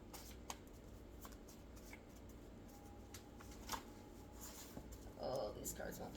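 Oracle cards being shuffled by hand, soft repeated riffling and flicking close by, faint and intermittent against quiet room tone, with a voice speaking briefly.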